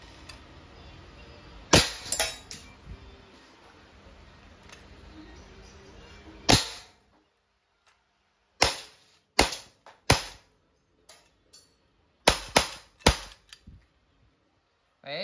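An Umarex Glock 17 Gen 5 CO2 pistol firing 4.5mm steel BBs gives sharp, close, snappy pops, first a pair, then after a pause a rapid irregular string of about eight shots separated by near silence.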